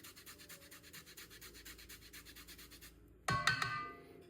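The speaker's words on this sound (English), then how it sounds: "I'm just gonna grate this ginger in there, a piece of peeled ginger" Peeled ginger being grated gives a soft, steady rhythmic rasping up close, ending with a brief metallic clink and clatter as the grater is set down.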